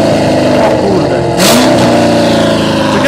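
A 1000 hp Corvette V8 revs hard with its exhaust flaps open, a loud, close, continuous roar that swells sharply about halfway through and holds at full volume.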